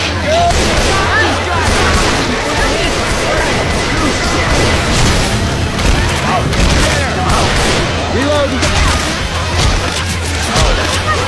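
Pipe bomb thrown and bursting in a video game: a dense, continuous barrage of blasts and crashing impacts fills the whole stretch, loud and near, with gunfire and debris mixed in and no clear pauses.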